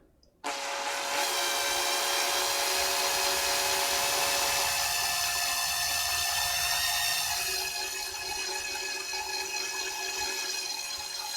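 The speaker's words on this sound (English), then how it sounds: "Me drilling this one little hole for 8 minutes." A small hole being drilled with a power tool, a steady loud whirring grind that runs continuously for the whole stretch and eases slightly toward the end, with no talking.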